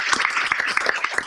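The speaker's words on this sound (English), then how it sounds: "Let's give them one more round of applause." Audience applause at a school board meeting, a brief patter of many hands clapping in a room, moderately loud and continuous with scattered sharper claps.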